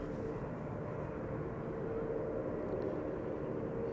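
An airliner departs Amsterdam Schiphol Airport bound for China, heard as a steady, distant jet roar with a broad low rumble that holds level throughout.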